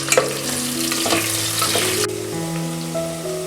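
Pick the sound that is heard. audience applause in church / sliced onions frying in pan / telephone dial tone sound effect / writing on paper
sliced onions frying in pan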